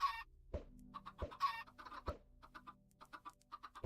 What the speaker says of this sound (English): So we're going to get a few chickens in there.